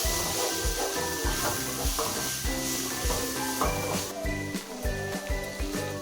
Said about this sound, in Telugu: ఇప్పుడు ఇందులో టమాటాలు వేసి వేయించండి.